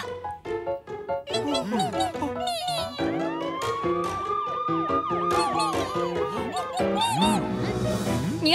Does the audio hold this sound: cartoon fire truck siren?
yes